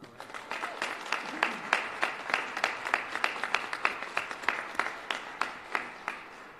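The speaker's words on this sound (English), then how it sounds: "if you'd keep that applause rolling" Audience applause at a civic event in Milwaukee launching an equality index: steady, moderately dense clapping from a crowd indoors, individual claps distinct on top, sustained throughout without speech.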